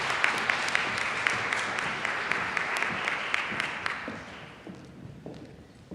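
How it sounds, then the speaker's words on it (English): An audience at a talk on homelessness applauds to welcome a speaker, with dense clapping that gradually thins and fades out toward the end. "So please welcome her with a round of applause."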